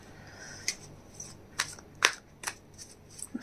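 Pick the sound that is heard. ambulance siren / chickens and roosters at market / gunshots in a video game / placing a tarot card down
placing a tarot card down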